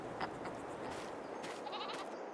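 Goats bleat in a livestock pen in Farming Simulator 22, several faint, distant calls rising over a soft, hissy farm ambience with no one talking.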